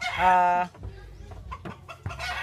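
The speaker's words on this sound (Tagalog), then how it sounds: "Kasi narinig nyo yung manok, masyadong maingay." A chicken gives a loud, harmonic cluck or squawk up close, followed by quieter scattered clucks and faint background noise, in Indangan, Philippines.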